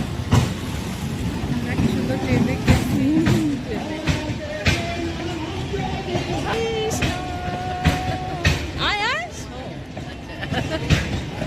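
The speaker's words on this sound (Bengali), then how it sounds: "ট্রেন দেখছি ট্রেন দেখছি" A train rumbles past with rhythmic clacking and a horn-like tone, while voices chatter nearby over the steady rail noise.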